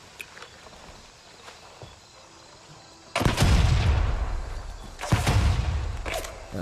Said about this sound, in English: I'll toss another nade at him. Nade out. Frag out.